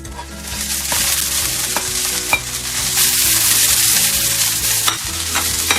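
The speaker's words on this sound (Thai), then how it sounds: "จากนั้นเราก็จะใส่ถั่วงอกลงไปนะคะ" Bean sprouts tossed into a hot pan with pork and garlic, a loud, steady sizzle with repeated scraping strokes of a spatula stirring the mix, close up and uninterrupted.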